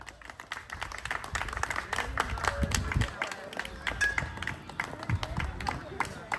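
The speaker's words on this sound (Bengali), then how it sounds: "সবাই তালি হবে" Scattered crowd clapping rattles on amid lively voices at a village contest of climbing an oiled banana tree, uneven and spread out rather than in unison.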